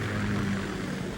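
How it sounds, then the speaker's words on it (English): A Kamov Ka-60 Kasatka helicopter in the Metal Gear Solid 2 video game gives off a steady, low rotor-and-engine drone that hums evenly throughout without speech. "Kasatka? Kamov chopper, right?"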